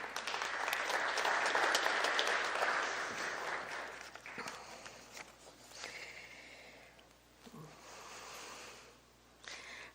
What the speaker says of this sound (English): So you have to applaud for yourself again.